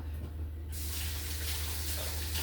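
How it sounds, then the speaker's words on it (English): Tap water runs steadily as hands are rinsed at a kitchen sink while making homemade apple butter, a continuous close broadband splash that swells fuller after a brief start, with a low hum beneath and no talking. "Let me rinse my hands off."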